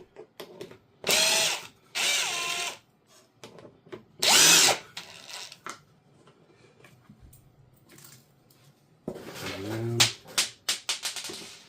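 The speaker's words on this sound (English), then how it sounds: "I just so happen to have power tools to make that a little bit easier" A power tool whirs in several short, loud bursts, driving screws while installing window shades, separated by quiet pauses and small clicks and handling noises.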